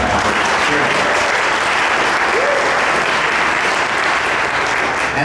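Audience at a 416th District Court race candidate forum applauding steadily and loudly, a dense continuous wash of many hands clapping throughout.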